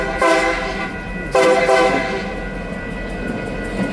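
A train passes close by, its horn sounding in two loud blasts over a steady rumble of rolling cars that continues underneath.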